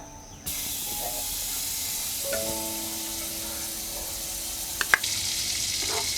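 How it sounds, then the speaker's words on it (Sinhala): Two teaspoons of butter hit a hot cooking pot for potato soup, setting off an abrupt, steady sizzle that stays loud and even, with a couple of faint clinks on top. "බටර් තේ හැඳි දෙකයි අපි දැන් බටර් ටික මේ හට්ටියට දාගන්නවා."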